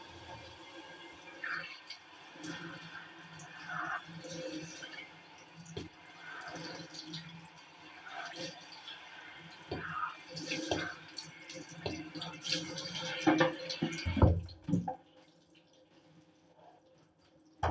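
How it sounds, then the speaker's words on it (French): Hair is rinsed with cold running water after washing with a nourishing Yves Rocher shampoo, producing a soft, close splashing and trickling flow that builds louder before stopping abruptly, with a faint voice now and then. "je vais rincer l'eau et je vais les rincer à l'eau froide"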